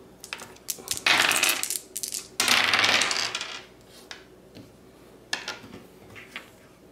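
Dice rolled during a Castles of Burgundy board game, two loud clattering bursts of dice tumbling and rattling on a hard surface, then a few lighter taps and settling knocks, close and with no talking.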